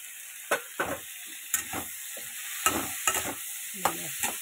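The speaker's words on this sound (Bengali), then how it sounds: "একটু ভাজা ভাজা হচ্ছে।" Spices with turmeric and salt frying in oil, likely fish oil in a home kitchen pan, giving a steady sizzle broken by several bursts of stirring scrapes, close and fairly quiet with no talk.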